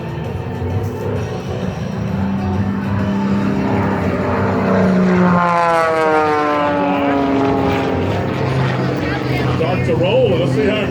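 At an air show, a biplane flies aerobatics with a droning propeller engine whose pitch rises and sweeps as it maneuvers, mixed with a loud announcer's voice and crowd ambience.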